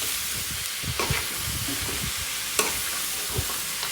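Pork kaldereta stirred in a pan, with irregular scraping and clinking of a utensil over a soft steady sizzle, close by and moderate in level, with no talking.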